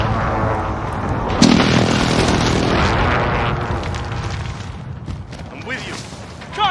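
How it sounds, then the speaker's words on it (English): Enemy precision airstrike explosions in Call of Duty Modern Warfare 2019, a sharp broadband boom followed by dense rumbling blasts and battlefield din that slowly fade, with a faint voice mixed in. "Enemy precision airstrike."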